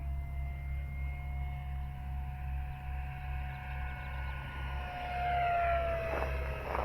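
An FMS Futura 64mm electric ducted-fan RC jet flies at full throttle on a 2200 pack, giving a steady whine whose tone rises and sweeps as it passes, over a constant low hum.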